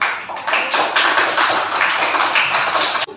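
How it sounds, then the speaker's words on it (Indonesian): Classroom applause for a student group, a burst of many hands clapping together for about three seconds, loud and close, then stopping abruptly. "beri aplaus untuk kelompok 1"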